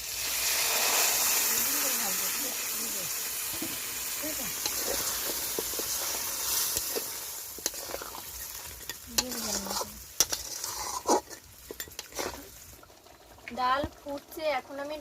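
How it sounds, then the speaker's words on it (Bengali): Boiled dal poured into a sizzling crab masala and stirred in a pan, a frying hiss fading into wet stirring and scraping clatter, with a voice talking over it. "এখন আমি সেদ্ধ ডালটা ঢেলে দিচ্ছি"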